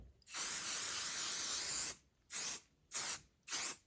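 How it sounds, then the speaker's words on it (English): Spray and Bond temporary basting adhesive hisses from an aerosol can, one long spray of about two seconds followed by three short bursts, close and crisp with no talking. "So I'll just spray some there, kind of let it air dry for a minute to get tacky"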